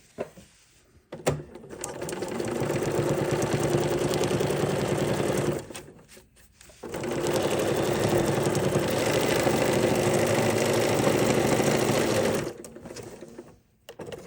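A sewing machine runs a serpentine stitch down a potholder seam in two long, steady bursts of close, even mechanical whirring, separated by a brief pause.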